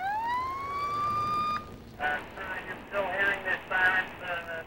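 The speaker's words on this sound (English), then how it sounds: "one by one had each vehicle turn their siren on" A police car siren starts with a long rising tone, then pauses and switches to a rapid warbling wail, heard moderately close and alone.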